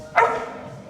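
A single short dog bark rings out close by, then fades into a quiet background.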